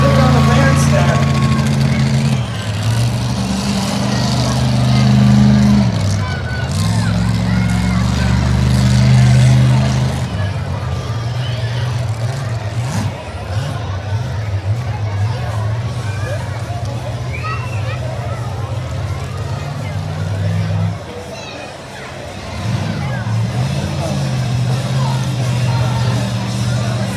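A monster truck engine roars loudly at a monster truck show in Mansfield, Ohio, a steady heavy rumble that swells and dips as the throttle changes, with crowd noise and announcer talk over it.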